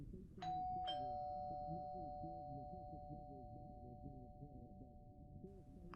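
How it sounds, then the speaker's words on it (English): Two quick doorbell chimes sound close together, leaving a clean sustained electronic tone ringing out over the rest of the stretch, with a soft murmuring voice running underneath throughout. "the doorbell rung."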